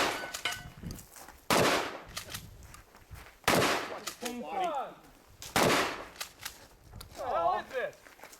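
Shotgun blasts at an action side match: four loud, sharp reports spaced about two seconds apart, each followed by short ringing clangs from steel plate targets, with quiet gaps between shots.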